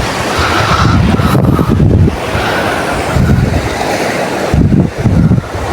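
Rising sea water on the Konkan coast, with waves surging and washing in steady rushes, and wind buffeting the microphone in a loud, continuous roar with heavier low bursts.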